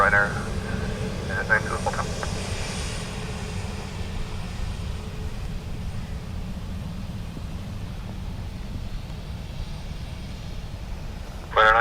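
Aircraft at Dublin Airport make a steady broadband engine roar that holds throughout at moderate loudness, with faint radio chatter from air traffic control and short bursts near the start and the very end.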